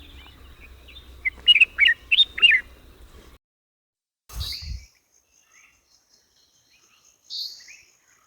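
Bulbul song outdoors: a quick run of four bright, rhythmic chirping notes, a pause, then a pair of low taps and a few sparse, fainter calls, all clear and close.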